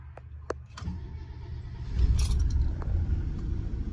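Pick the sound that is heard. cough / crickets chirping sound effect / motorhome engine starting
motorhome engine starting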